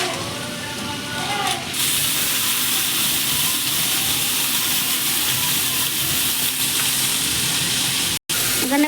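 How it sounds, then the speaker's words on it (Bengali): Sundarbans crabs frying in oil in a wok, a loud, steady sizzle and hiss that carries on without break, with a brief cut near the end. "এখানে কাঁকড়া ভাজা চলছে,"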